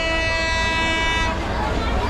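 An approaching train in Bangladesh sounds a loud, sustained horn for about a second before it cuts off, leaving a noisy outdoor station background.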